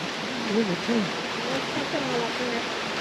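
Peters Creek flows in the Sunshine Coast Hinterland as a steady, full broadband rush of water, constant and close, while people talk over it.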